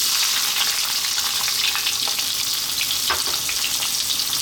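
Chopped onion added to hot oil with cumin seeds for an eggplant curry, a steady bright sizzle and crackle throughout with a few soft stirring clicks, no voices.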